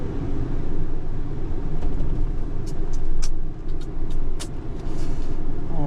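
A tow truck backs into a tight spot beside a parked truck, its steady engine rumble loud and close throughout, with brief high hisses and squeaks from the truck over the drone.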